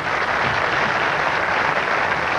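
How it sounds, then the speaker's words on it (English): A crowd at a 1985 professional bowling tournament claps in a steady, dense roar of applause that holds at an even level throughout. "The applause for Teats Semiz."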